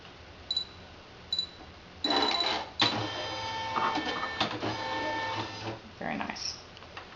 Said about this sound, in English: I'm going to turn the machine on. This is going to move to test and see if it's in place correctly.